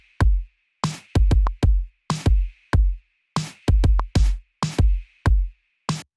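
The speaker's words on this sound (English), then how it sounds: "And a snare drum, as you can hear." A pop beat of sharp, punchy percussive hits, claps and a snare drum, landing in a loose repeating rhythm over a steady high sustained tone, loud and close with no voices.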